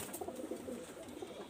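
Pigeons cooing softly in a loft of breeding birds, low repeated coos faint and steady with no voices.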